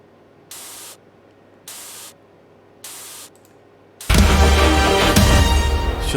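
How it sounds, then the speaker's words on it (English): A white noise effect in a music project: three short, evenly spaced bursts of bright hiss with silence between them, then a louder, sustained wash of noise that fills the rest. "It's just white noise."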